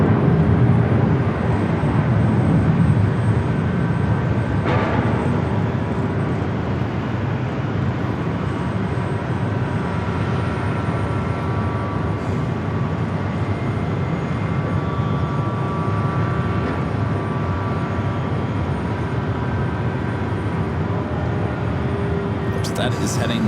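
An EVA Air airliner in older livery rolls down runway 25 Right at Los Angeles International Airport, bound for Taipei, as a steady, distant roar of engine and rolling noise that holds level throughout.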